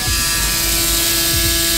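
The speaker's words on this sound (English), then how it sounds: "Hear that roar, look at those blades move. This is the most powerful shaver on the market" A Braun Series 9 electric shaver runs steadily for the whole stretch with its blades moving, giving a loud, close, continuous motor buzz and hum with no talking over it.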